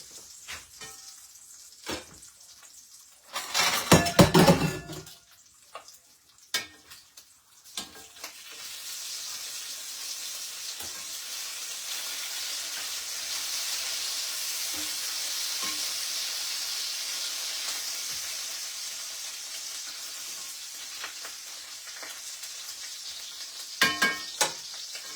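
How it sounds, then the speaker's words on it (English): Bacon sizzles and crackles steadily in a frying pan, a soft continuous hiss with a louder burst of spatter early on and scattered pops throughout, no talking. "Let me turn this bacon down. I hope I ain't burnt it while I'm talking."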